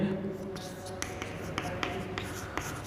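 Math equations being written on a board, with chalk or marker strokes tapping and scratching in short, regular bursts while a teacher talks over them.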